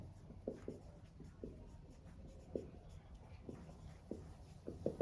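A pen writes math on paper, a steady run of faint, close scratching strokes and taps with no talk.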